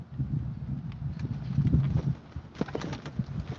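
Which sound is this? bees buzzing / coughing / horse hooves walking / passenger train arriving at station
horse hooves walking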